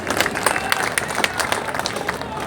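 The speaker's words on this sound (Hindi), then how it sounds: "तालियों से उनको भी आशीर्वाद दीजिए।" A crowd applauds at a public event in Bhopal, making a sustained, even wash of many hands clapping at once, close and fairly loud throughout.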